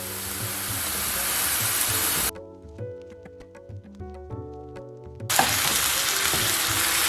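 Marinated beef for a Jamaican beef patty filling stir-fries over high flame in a pan, giving a loud, steady sizzle at the start and again at the end, broken by a quieter stretch in the middle.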